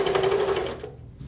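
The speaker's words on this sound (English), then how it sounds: "I'm gonna take it to the sewing machine." Sewing machine stitching quilt fabric, a steady fast whir of needle strokes that runs loud for most of a second, then trails off into quiet.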